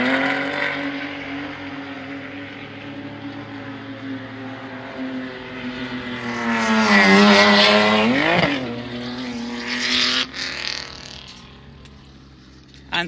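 A drift car engine at a Cyprus drift championship practice, heard from the side as a distant hum that builds into a loud rising rev, then drops and fades, with brief bursts afterward.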